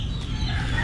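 Chickens near a yard in the Philippines cluck briefly in a short burst over a low background rumble.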